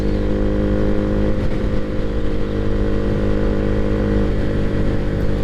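A motorcycle fitted with a Leo Vince aftermarket exhaust, intake and tune idles and revs with a deep, throaty rumble, loud and close, holding steady with slight throttle blips.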